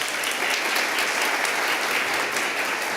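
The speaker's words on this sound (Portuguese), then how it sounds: "Palmas." A conference audience applauds steadily as the first speaker is invited on stage at a crisis-communication masterclass, dense even clapping filling the room with no talk over it.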